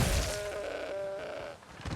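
A goat bleats in Dragon's Dogma 2, one sustained wavering call at moderate distance, then fading into soft game ambience.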